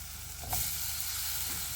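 Potatoes and drumsticks dropped into hot masala for a clam curry set off a steady loud sizzle and hiss of frying, with a brief stirring scrape partway through.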